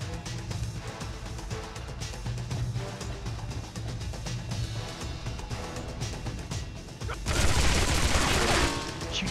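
Dense, continuous gunfire in 007 Agent Under Fire, rapid bursts layered over a rumbling game soundtrack, swelling louder with a burst of explosive noise near the end.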